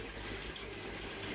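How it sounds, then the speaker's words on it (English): Tap water runs steadily into a plastic bin, a continuous close gushing fill with no voices. "I'm filling this bin up with water"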